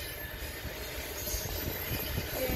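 Three Norfolk Southern locomotives heading west at night in Berea rumble past with a steady low roar and rolling wheel noise, loud and continuous throughout.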